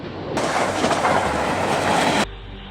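A train rushes past close by, a loud roaring clatter of wheels on rails that bursts in suddenly, holds for about two seconds, then cuts off to quiet.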